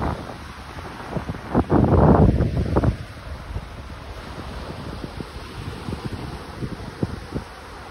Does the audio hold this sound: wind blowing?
yes